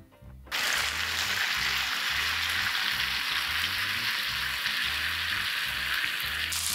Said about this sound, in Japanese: 香ばしさを出すためにしっかり皮目を焼いていってください